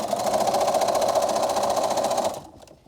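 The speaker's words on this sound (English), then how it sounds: "I'm going to quadruple stitch over the elastic" A sewing machine runs fast over the elastic on a homemade medical mask, a close, steady whirring that stops abruptly near the end and leaves near silence.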